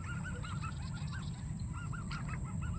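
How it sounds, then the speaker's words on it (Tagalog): Honking waterfowl calls repeat in short bursts at a distance, over a low rumble of background noise. "Wild duck."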